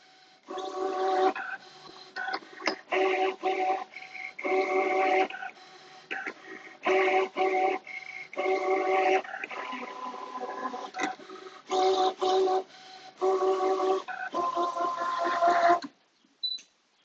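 A ScanNCut cutting machine draws quilt-block sew lines with a pen, giving steady bursts of whirring, buzzing motor movement in quick repeated runs with short pauses, close and fairly quiet, no talking.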